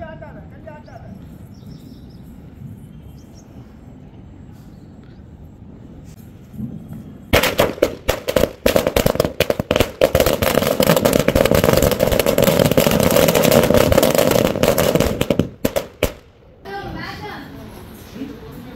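A long string of firecrackers goes off during Diwali celebrations in rapid, dense crackling bursts for about eight seconds, loud and near, with people talking before and after.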